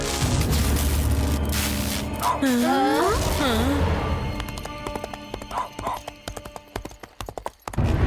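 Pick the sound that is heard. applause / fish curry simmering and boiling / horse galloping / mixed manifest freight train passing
horse galloping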